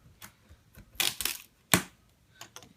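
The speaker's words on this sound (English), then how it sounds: "I'm gonna use these handy dandy scissors to unbox" Scissors cutting open the cardboard box of a mini fridge: a few sharp, close crunching snips in a quick cluster, then one more distinct cut, with quiet pauses between.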